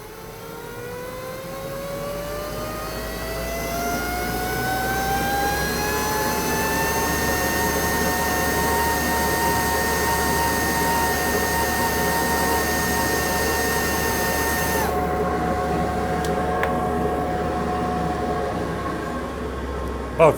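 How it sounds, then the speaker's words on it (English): A shop dust collector spins up, its rising whine settling into a steady loud motor drone with broadband air rush, running continuously near the listener before a high hiss cuts out near the end. "I'll just turn on the dust collector,"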